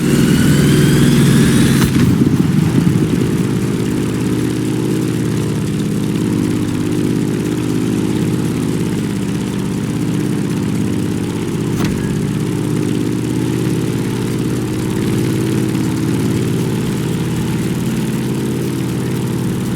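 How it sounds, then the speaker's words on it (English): A Grumman F8F Bearcat propeller aircraft engine in a video game roars in a steady, loud low drone throughout, with a brief higher whine at the start. "In the cockpit of a stunning Grumman F8F Bearcat, or simply the Bear."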